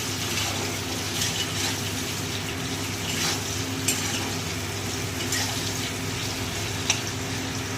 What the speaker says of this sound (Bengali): পটলগুলো একটু ভাজা ভাজা আমি না করলে টেস্ট হবে না